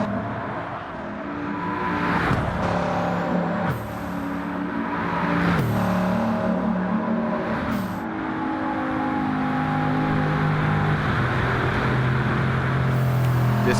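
Race cars in a racing video game roar down the long Camel Straight, engines howling steadily with several rising revs and gear-change drops as cars pass, loud and continuous without talk.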